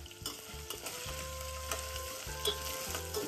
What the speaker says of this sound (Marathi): जरा बटाटा आणि गोबी फ्राय झाली की त्यामध्ये मी हे बारीक चिरलेले गाजर घालून घेतले.